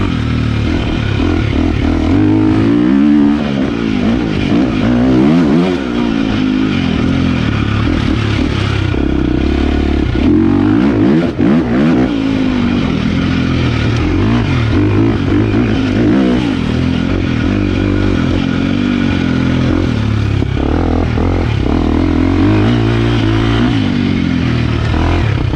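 A 2023 KTM 350XCF dirt bike engine revs steadily and loudly while riding on a turn track and desert single track, with constant throttle swells and mechanical clatter throughout and no voices.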